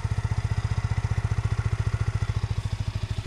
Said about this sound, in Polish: czyli układ wydechowy, brzmienie. No, słyszycie, rewelacji nie ma, jak na 125